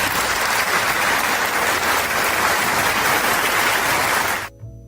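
An audience at a school annual day in Indiranagar, Bengaluru claps and cheers loudly and steadily as parents come on stage, then the applause cuts off abruptly near the end.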